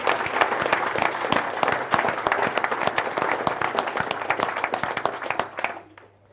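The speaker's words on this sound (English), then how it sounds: "Please give them all a round of applause." A closing-ceremony audience applauds its sponsors with sustained, dense clapping that holds steady for several seconds, then fades out abruptly near the end.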